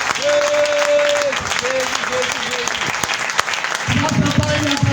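A church congregation claps and cheers steadily throughout, while a voice sings or calls out over the applause.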